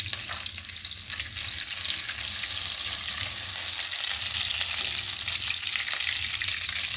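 Green chillies fry in hot oil, giving a steady, close, bright sizzle with crackling hiss that holds for the whole stretch without pause.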